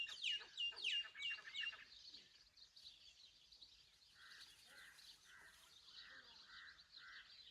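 Birds call on a cold morning in a village, a quick series of chirps followed by a faint rhythmic run of about six repeated notes, all distant and quiet with no one talking.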